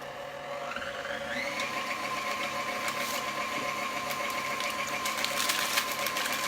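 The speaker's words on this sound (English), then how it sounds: "Okay, so I'm gonna start my mixer." An electric mixer beats vanilla pudding mix, its steady motor whine rising in pitch as it gets up to speed and then holding a constant, close hum with light rattling.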